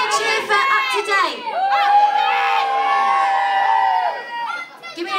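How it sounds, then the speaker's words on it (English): An audience cheers and shouts in a continuous burst of mixed voices, children among them, loud and close, at a live show. "Give me a cheer for up to date"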